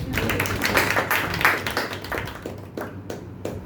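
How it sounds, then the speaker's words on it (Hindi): An audience at a motivational session claps together, a dense patter of many hands that stays fairly steady, then thins and breaks into a few scattered claps near the end. "तालियां बनती है।"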